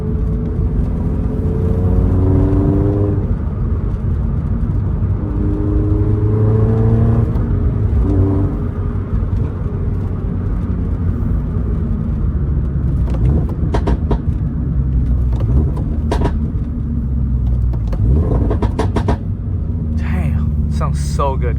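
Toyota GR86 or Subaru BRZ engine droning and rising in pitch through gear changes on a road drive, a steady close rumble with revving sweeps and occasional crackles, while someone talks over it throughout.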